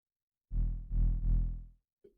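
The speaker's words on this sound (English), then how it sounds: "I created this bass patch. This sine wave shape, changed the shape of it a little bit. Basically like distortion" A synth bass patch built from a reshaped sine wave with distortion plays three deep, buzzy sustained notes in quick succession, each with a short attack and a short release. A brief faint blip follows after a moment of silence.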